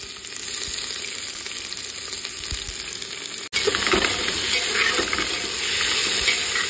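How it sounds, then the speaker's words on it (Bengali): White cumin seeds and chopped onion sizzle in hot mustard oil in a Bengali kitchen in Kolkata, a loud, steady frying hiss that swells after a brief break midway, with no talking. "গরম সর্ষের তেলে আমি এখন দিয়ে দিলাম সাদা জিরে ফোড়ন।"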